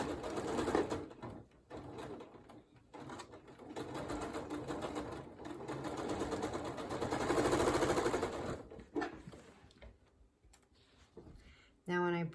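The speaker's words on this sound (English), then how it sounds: "sew that seam." A sewing machine stitches a seam on quilt fabric, its motor running in a steady mechanical hum with rapid needle ticking over several seconds, pausing briefly near the end while a person talks.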